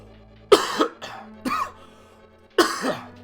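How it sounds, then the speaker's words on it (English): Two rough, loud coughs burst out close to the microphone, separated by a quieter throaty sound, with near silence between them. "I apologize for, again, coughing into the mic"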